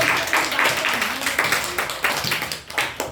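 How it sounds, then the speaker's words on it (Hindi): A schoolroom class clapping for a girl student during a geometry lesson on lines and angles, a loose burst of many small hands with uneven rhythmic pulses that fade and swell, fairly close. "वेरी गुड भाई, बच्ची के लिए ताली बजाओ।"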